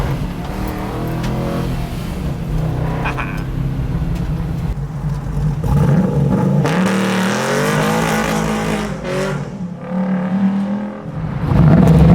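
A deep, throaty LS3 V8 engine in a Chevy Nova pro-touring car revs and accelerates hard, its pitch climbing and dropping through several surges before roaring loud at the end.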